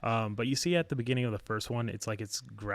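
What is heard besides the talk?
No everyday noises stand out.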